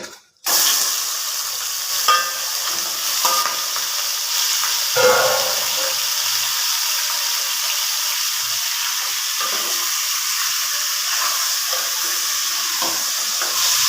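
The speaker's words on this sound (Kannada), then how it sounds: "ಎಣ್ಣೆ ಚೆನ್ನಾಗಿ ಹೀಟ್ ಬಂದಿದೆ ಇವಾಗ ಚಿಕನ್ ಹಾಕ್ತಾ ಇದೆ" Half a kilogram of chicken goes into well-heated oil and fries with a loud, steady, close sizzle that holds evenly with occasional stirring.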